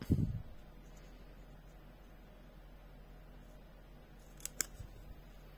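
Scissors snip through card for a scrapbooking project, one quick crunchy cut near the start followed by quiet room tone and a few small clicks.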